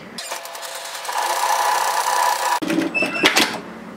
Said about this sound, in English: use a twin needle or a cover seamer or your plain sewing machine and just stitch that into place